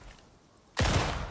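An old shotgun fires a cold steel bullet in a survival video game: a quiet lull, then one loud, sharp blast that rings out briefly.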